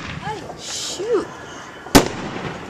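New Year's fireworks going off outdoors, whistling rockets rising and then one sharp loud bang near the end, with voices talking and calling nearby.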